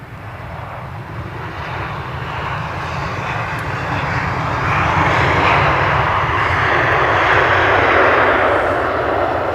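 An Emirates Airbus A350-900 jet in biofuel livery at Edinburgh airport, a broad steady engine roar that swells louder over several seconds as the aircraft passes close, heard alone with no voices.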